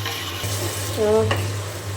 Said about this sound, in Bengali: ঢেঁড়স ভাজিটা হচ্ছে, আমি আবারও নেড়ে ছেড়ে দিলাম